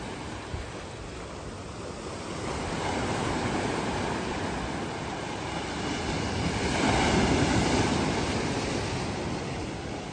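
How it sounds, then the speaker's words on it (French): Ocean waves and wind on the volcanic rocky coast of Mauritius make a continuous broad roar that swells slightly louder partway through, with no voices. "il y a plus de vagues, il y a plus de vent."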